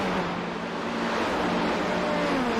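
LMP2 prototype race cars at the Road Atlanta circuit roar steadily at close range, a continuous engine drone with a rising whine as they head into turn one.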